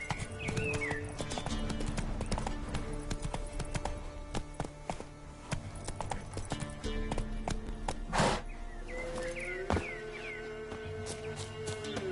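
Horse hooves clip-clopping at a steady rhythmic gallop in The Witcher 3: Wild Hunt, continuous and fairly close, with occasional whinnies and game sound effects layered over the beat.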